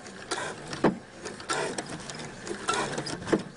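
A sewing machine stitches through a thick webbing strap on a DIY belt bag, giving a quiet, irregular mechanical whir with a few sharper clacks close by and no talk.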